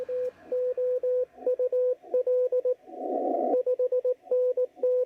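Morse code CW tones from a ham radio speaker with built-in DSP, clear steady beeps in rhythmic dots and dashes over low atmospheric noise, broken by one short burst of static.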